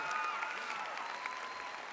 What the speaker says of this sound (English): Let's go clap one more time.